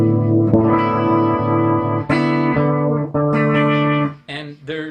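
Electric guitar played through a Snazzy FX Tracer City modulation pedal, sustained chords shimmering and warbling with shifting modulation and distortion, several chord changes in a row, close and loud, fading at the end.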